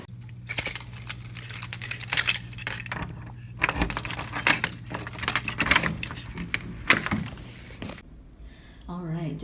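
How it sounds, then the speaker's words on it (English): Apartment keys jangle in bursts across a college move-in, loud and close with metallic clinks and rattles, and a voice comes in briefly at the end. "just got my keys"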